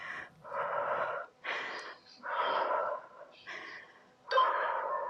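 Forceful exhales during an at-home abdominal workout with no equipment: five or six hard, breathy puffs in a loose rhythm, close and fairly loud, with short quiet gaps between them.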